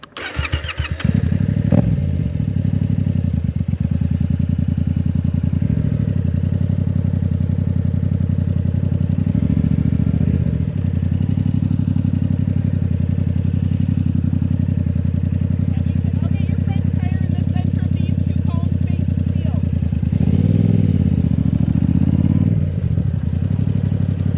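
A 2023 Yamaha MT-07 motorcycle runs through a U-turn and slalom on a skills-test course, its engine droning steadily up close with slight rises and dips in revs over about twenty seconds.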